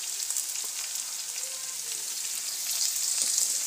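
Ginger, garlic, green chili and onion frying lightly in a pan for homemade egg chow mein, a steady close hiss of oil sizzling throughout, slightly louder toward the end.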